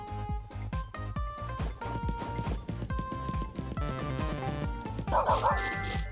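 A dog in the video game Spelunker World gives a rapid run of yipping barks over busy, tonal game music and effects, loud and steady throughout.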